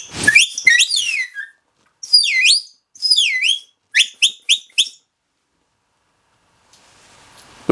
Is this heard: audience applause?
no